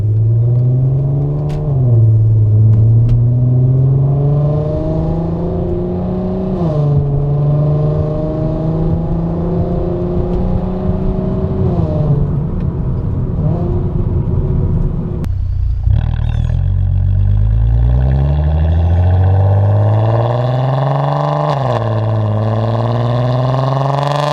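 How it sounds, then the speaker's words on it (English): A 2008 VW R32 with its resonator deleted, in sport mode pulling away from a stop sign, drones and rises through the revs, dropping sharply at an upshift midway before climbing again, loud and close. "Now I'll put it in sport mode at this stop sign, and we'll do some upshifts with that."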